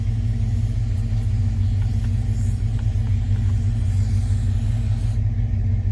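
A 1973-79 Ford truck idling with a vacuum leak in its factory A/C system, a steady loud low engine rumble with a faint hiss above it, continuous and close.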